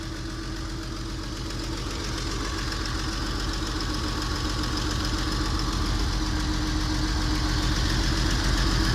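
A rebuilt car engine idles steadily and evenly, a close, continuous low rumble with a faint rhythmic knock running through it and no voices.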